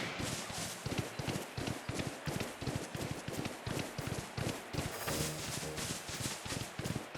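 Steady rhythmic clip-clop of a horse running in the video game Pokémon Legends: Arceus, loud and continuous with even hoofbeats throughout.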